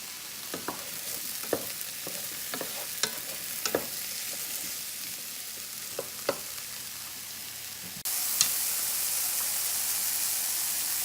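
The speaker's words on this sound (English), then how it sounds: "We're going to saute our onions and our mushrooms" Mushrooms sauteing in butter in a large fry pan give a soft, steady sizzle, broken by light scrapes and taps of stirring, then the frying hiss grows louder near the end.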